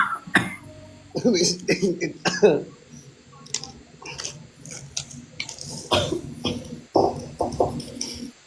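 Several people cough in short harsh bursts, scattered and overlapping with talking and clicking noises nearby.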